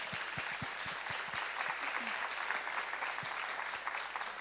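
An audience applauding at a talk on social inclusion and climate action, steady crowd clapping sustained throughout, even and moderately distant.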